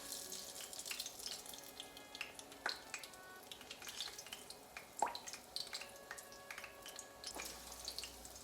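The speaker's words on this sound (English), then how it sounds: "we'll take these eggplants that we put in the flour and then dipped in the egg, place them in the pan" Eggplant slices coated in flour and dipped in egg fry in a pan, a soft continuous sizzle broken by irregular crackles and pops, fairly quiet and heard alone without talking.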